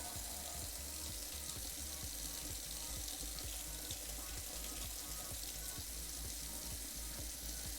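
Water runs steadily from a kitchen tap while bread dough is being made, a soft continuous hiss and splash that holds without a break throughout.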